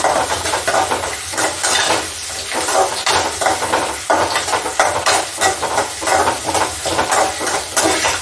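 Ingredients for toor dal sambar sauté in a pan on a gas stove, with a crackling sizzle and repeated scraping stirs in an uneven rhythm, close and moderately loud.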